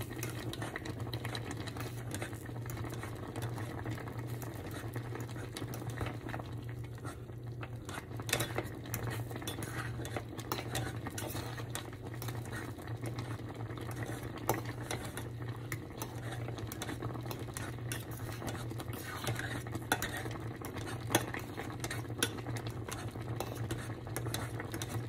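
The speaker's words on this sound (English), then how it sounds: "go ahead and kind of smash or mash up the fruit a little bit, especially the blueberries" Blueberries and other fruit being mashed in a cooking pot before boiling, a steady soft stirring and squishing with faint utensil scrapes against the pot, continuous and close, under a low hum with no talking.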